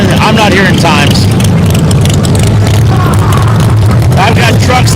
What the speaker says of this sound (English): I've got trucks running right in front of me every time he goes to announce times.